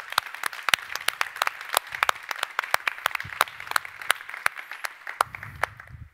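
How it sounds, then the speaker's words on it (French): Conference audience claps for the sponsors, a scattered round of individual claps, fairly sparse and crisp, with faint murmuring underneath near the end. "un tonnerre d'applaudissements pour tous nos sponsors présents aujourd'hui"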